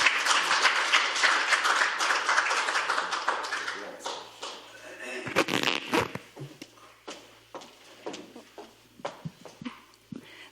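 Audience applause welcoming a guest speaker, an economic trends centre director, at a Democratic Party economics event in Korea: dense clapping through the first few seconds, then thinning into scattered claps and small handling noises.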